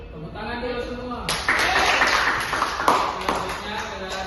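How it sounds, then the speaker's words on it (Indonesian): Students in a combined-grade primary classroom burst into applause after a brief voice, a dense bright clatter of many hands that carries on steadily for about three seconds, close and fairly loud. "Tepuk tangan dulu semua."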